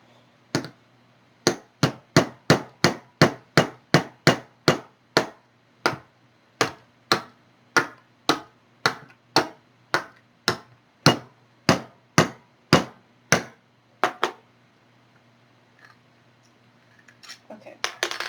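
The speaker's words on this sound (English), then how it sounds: "for me I'm going to use my brass block again, and you're going to hit this until the nut is seated" Brass block striking down repeatedly to seat a nut during assembly of a 3D-printed spool holder: around twenty-five sharp, close metallic taps in a steady rhythm, pausing and fading out near the end, with no talk over them.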